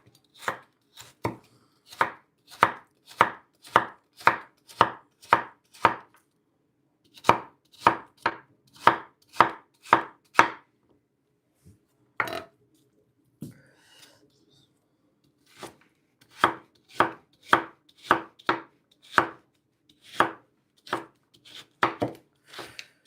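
Celery chopped with a knife on a board, a run of sharp, evenly spaced thuds, then a pause with one or two strokes, then more rapid chops, close and crisp with no talk over them.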